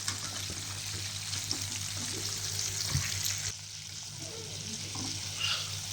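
Marinated chicken frying in hot oil for homemade KFC-style chicken gets stirred, a steady broad sizzle with a few scraping stirs, the frying quieting slightly partway through; no talking.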